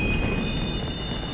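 Train rumbling past in the open-world game Watch Dogs, a loud continuous low roar with a steady high whine and faint squeals, no speech.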